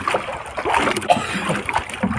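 Rough, windy sea slaps and splashes against a small squid-fishing boat out at sea at night, with irregular choppy wave hits and wind noise close by.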